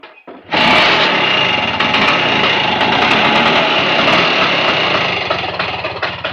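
A Vespa scooter engine fires up after the choke is pulled and settles into a loud, steady high-pitched buzzing run, close by and continuous with no voices.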